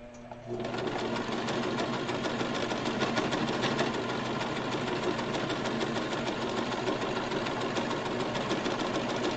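A sewing machine stitches fabric for a face mask, its rapid mechanical whirring steady and close for several seconds after a brief start, with no talk.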